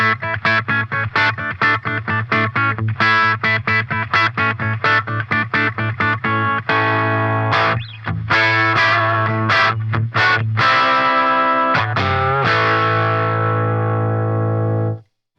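An electric guitar plays through a Fender Champion 50XL amp on its crunch setting: fast chugging distorted chords in a steady driving rhythm, then longer ringing chords that sustain before cutting off, loud and close, with no talking.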